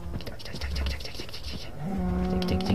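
A cow moos in the Minecraft video game, a drawn-out low call that rises near the end, mixed with a player's voice and light game noise.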